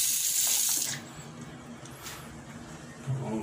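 A Docol quarter-turn faucet runs with its valve open, giving a loud, steady gush of water for about a second that then drops to a softer, continuous flow.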